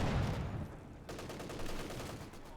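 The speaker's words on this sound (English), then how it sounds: "they're going to the two samples of the light machine guns blazing away there." Light machine guns firing in the strategy game Company of Heroes 2, dense overlapping rattling bursts in a continuous battle din, steady and moderately loud throughout.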